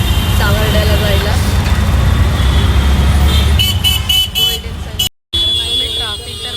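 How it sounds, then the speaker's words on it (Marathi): Car horns honk in dense city traffic, short toots rising over a loud roadway rumble while a person talks over the noise. "हॉर्नचा आवाज एवढा आहे की माझा आवाज सुद्धा क्लिअर तुम्हाला येत आहे की नाही माहिती नाही"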